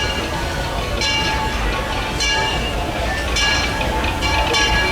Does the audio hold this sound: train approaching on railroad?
yes